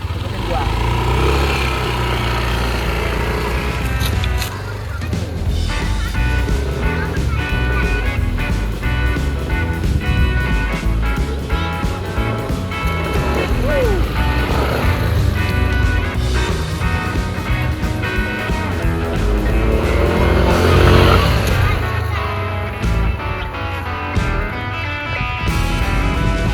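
A Yamaha NMAX 2020 scooter (155 cc) is ridden on the road, with a steady engine drone and wind running throughout, and a rider talking over it.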